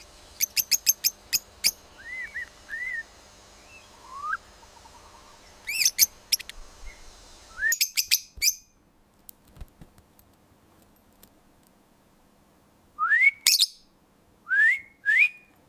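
Lovebirds give sharp clicks, quick rising whistles and chirps in scattered bursts, some close and bright, with quiet gaps between the calls and no talking.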